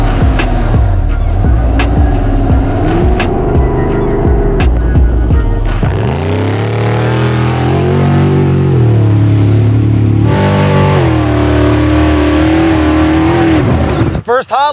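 Trophy Bug rally car engine revving hard on a night hot lap, a loud sustained roar with rising and falling pitch as it accelerates and shifts, with people talking over it.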